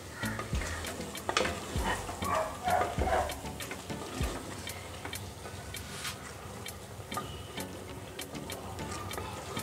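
Prawn masala being stirred in a pan over a low flame, with a steady close sizzle and scraping strokes of the spoon through the whole stretch.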